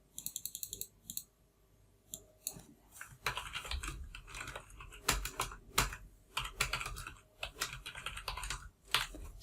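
Typing on a computer keyboard, with quick bursts of close, crisp key clicks and a few louder taps separated by short pauses, and no talk.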